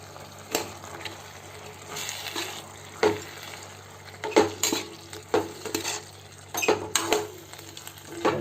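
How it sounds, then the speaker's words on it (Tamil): Chicken curry is stirred in a pot over heat, with a spoon scraping and clinking against the metal in irregular strokes above a soft sizzle. The sound is close and moderately quiet, and no one speaks. "நன்றாக கிளறிடுவோம்."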